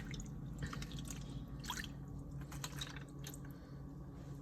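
Water poured into a pan of oven-cooked beef ribs, trickling and dripping softly and close by in a few uneven splashes over a low background hum, without talk.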